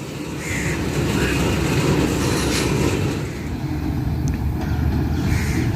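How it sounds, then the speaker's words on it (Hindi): The Shalimar Express rolls into Toba Tek Singh station with a steady, loud low rumble of wheels and carriages, continuous and close throughout, with faint higher squeals above it. "28 डाउन शालीमार एक्सप्रेस GU 49005 के साथ टोबा टेक्सिंग पहुंच रही है"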